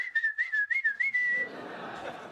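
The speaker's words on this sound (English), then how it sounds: "You whistled?" A person whistles a short, wavering tune of quick, clear notes up close, then the whistle holds one steady pitch before fading into a soft background hiss.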